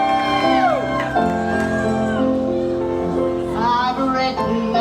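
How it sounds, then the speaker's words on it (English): An audience at a live Warner Bros horror-themed stage show screams and cheers loudly and continuously, with shrill, sustained yells overlapping throughout. "please scream as loud as you can for your leading ladies of Warner Brothers"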